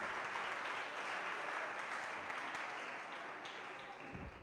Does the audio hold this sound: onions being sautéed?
no